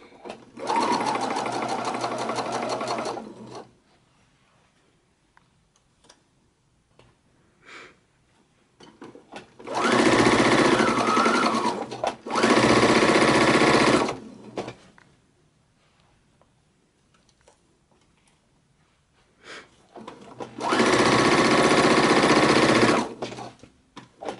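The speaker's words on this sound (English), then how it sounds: "So we're going to sew as close to the edge as possible" Sewing machine stitching close to the edge of a fabric messenger bag flap in three loud, steady bursts of rapid needle clatter, separated by quiet pauses with faint handling clicks.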